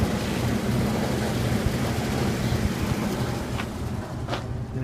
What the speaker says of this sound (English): Got the motor straightened out, the belt changed on the exhaust fan.